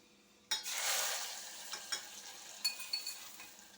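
Roasted ground masala hits hot oil over mango pickle with a sudden loud sizzle that fades into steady frying, followed by several close scrapes and clinks of stirring.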